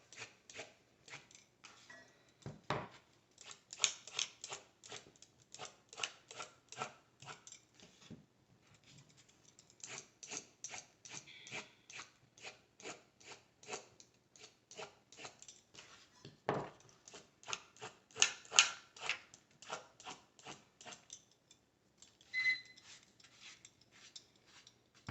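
A broccoli stem being peeled into long ribbons, a quiet, rapid series of crisp scraping strokes with short pauses between runs, close and without speech.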